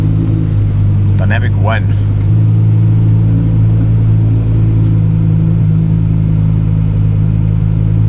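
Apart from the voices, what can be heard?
straight-piped Audi R8 V10 engine revving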